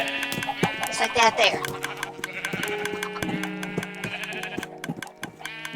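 Sheep in a Minecraft-style building game bleat several times in quick succession, wavering nasal cries up close, mixed with clicking block and footstep effects while someone talks over them.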